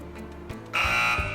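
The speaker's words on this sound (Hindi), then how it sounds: "मैं बजर्स एक्टिवेट कर रहा हूँ।" An electronic quiz buzzer sounds in a studio during a Ramzan Islamic quiz show, a single loud sustained buzz starting partway through after a few soft clicks and thumps.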